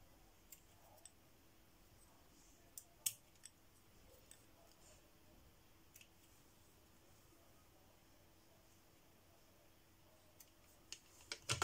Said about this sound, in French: Je vais couper les petits bouts qui dépassent